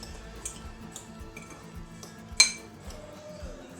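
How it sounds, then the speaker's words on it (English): A fork clinks against a bowl while breadcrumbs are mixed, light irregular ticks and taps with one sharper metallic clink near the end, close and fairly quiet. "Mix up the breadcrumbs"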